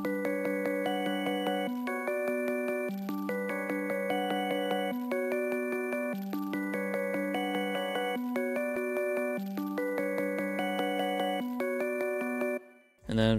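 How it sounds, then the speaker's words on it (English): Serum synth pluck preset called Pluck Connect plays a chopped, bright melodic riff in repeating bars with a steady rhythm, clean and upfront with no voices, cut off abruptly near the end. "And then I'm using a sound from Serum. It's called Pluck Connect."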